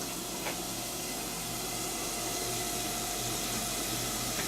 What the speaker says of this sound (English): Just gonna put the green onion, hear that sizzle?